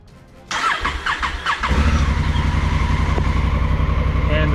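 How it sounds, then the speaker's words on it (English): A Honda Africa Twin DCT motorcycle starts up: the starter churns in several quick pulses, then the engine catches and settles into a loud, steady idle close by. "so if you start the motorcycle"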